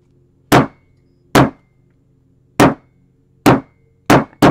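A hammer pounds flowers onto eco-dyed paper, landing five sharp, loud, close blows at irregular intervals with quiet gaps between them.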